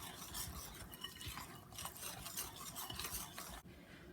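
Hoe cake batter being stirred in a bowl, a faint, close, continuous scraping and swishing of a utensil through thick mixture, with small clinks against the bowl and no talking.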